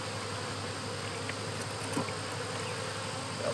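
Honey bees drone steadily around a feeder of 2:1 sugar syrup, a constant close buzzing with no talk.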